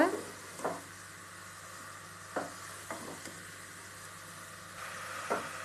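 Ridge gourd tossed into a pan of softened onions and stirred, giving a steady low sizzle with a few sharp scraping clicks of the spatula at irregular moments, close and quiet, with no talking.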